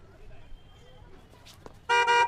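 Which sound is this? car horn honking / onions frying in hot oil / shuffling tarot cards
car horn honking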